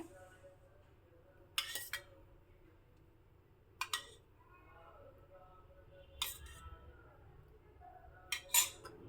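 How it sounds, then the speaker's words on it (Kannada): A spoon mixes thick curd into cooled mustard seasoning in a bowl for a chilled summer dish, giving four sharp metallic clinks spaced a couple of seconds apart over a quiet background with faint murmurs. "ಈಗ ಚೆನ್ನಾಗಿ ಮಿಕ್ಸ್ ಮಾಡಿಕೊಳ್ಳೋಣ"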